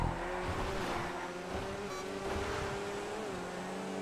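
GT1 race cars closing in during a GTA online race, a steady engine drone with a rising whine near the end, moderately loud and continuous.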